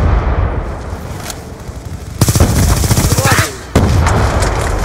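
Rapid automatic gunfire from a Call of Duty: Black Ops 2 multiplayer match rattles loud and close in dense bursts, with a short gap between volleys.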